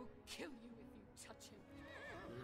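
A horse in the Lego Lord of the Rings video game neighs in a short, shrill whinny near the start, with game dialogue spoken over it and a second, softer whinny following.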